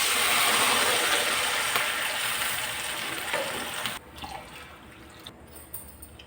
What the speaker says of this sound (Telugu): 2 గ్లాసులు నీళ్ళు పోసాను